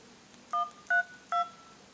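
Three short two-tone keypad dialing beeps on a Cubot S222 dual-SIM phone during a call demo, evenly spaced, clear and close with no talking.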